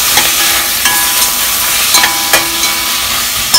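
Sauce poured into a hot pan with salted butter for a Thanksgiving dinner sizzles steadily and loudly, with a few sharp clinks and scrapes of a utensil against the pan, and no voices.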